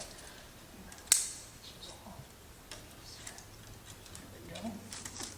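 One sharp, quick snip from cutting during an LCD screen repair on a Miller Bobcat 265 welder, a single crisp click standing out against a quiet background.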